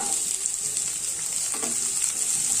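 Chopped onions frying in a pan with ginger and garlic for soya chunk gravy, a brief, close and steady hissing sizzle with a faint stir partway through.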